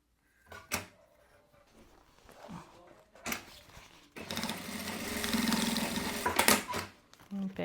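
A sewing machine runs a seam along a milk carton lining, starting after a few knocks and handling sounds with a long steady rattling whir up close, then stopping; a voice speaks briefly.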